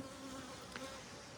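Honeybees buzzing steadily around an open hive during a spring hive split, a close, continuous insect drone with a faint tonal hum, no talking.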